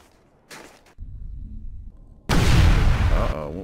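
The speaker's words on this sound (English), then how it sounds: "what was that explosion?" A loud, close explosion bursts in the Mass Effect 1 video game, a dense blast with a rumbling roar that sustains to the end, following quieter game noise and a short earlier burst.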